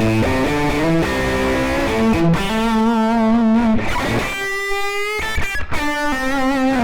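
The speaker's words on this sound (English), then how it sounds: "we get this kind of funny saturation. You can hear it affecting the reverb" A sustained electric guitar through a Helix with tape saturation placed after the reverb rings out with a warm, gritty saturated tone and reverb tail, loud and upfront, playing chords and single notes.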